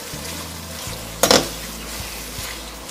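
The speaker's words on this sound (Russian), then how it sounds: "Теперь добавляем грибочки. Все дело перемешиваем." Mushrooms are stirred into hot oil, giving a low sizzle with a sudden short burst of hissing crackle as they hit the pan, plus a faint steady hum.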